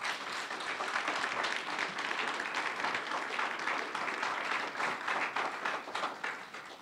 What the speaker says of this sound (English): Can we have a very warm round of applause for our panelists today?